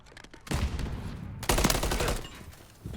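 Bursts of gunfire during a Call of Duty Modern Warfare 3 multiplayer match, with two loud dense volleys, the second after a short gap, then a faint final shot.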